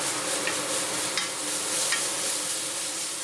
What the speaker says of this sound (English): Add in chopped ginger, garlic, and green onions. Fry for about 2 minutes.